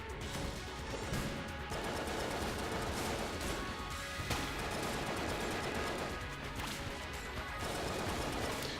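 The Goldie shotgun firing in Enter the Gungeon, a steady stream of loud blasts and impact crashes amid busy combat noise, with no voices.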